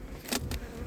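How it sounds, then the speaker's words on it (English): A honey bee buzzes close by in two short bursts as it lands on a phone beside an opened beehive box; the sound is brief and near. "There's a bee landed on the phone."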